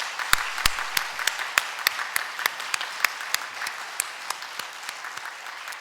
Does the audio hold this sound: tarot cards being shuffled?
no